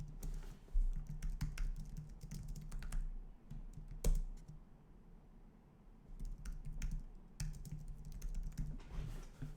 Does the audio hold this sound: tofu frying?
no